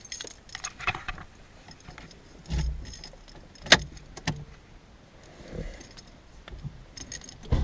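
Keys jangle and clink in scattered bursts close by inside a car, mixed with rustling, a sharp metallic chink and soft thumps, with no talking.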